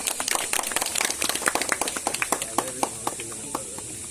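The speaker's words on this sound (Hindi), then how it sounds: "कृपया इन अच्छे कामों के लिए तालियां तो बनती ही है।" Scattered audience applause at an Independence Day program, a modest crowd clapping in uneven bursts that thin out, with faint voices underneath.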